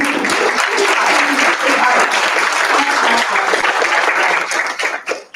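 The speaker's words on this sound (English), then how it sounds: "Can we please clap it up for them really quick?" Audience applause for panelists at a library book launch: loud, sustained clapping from a sizable crowd, close and continuous before fading out abruptly at the end.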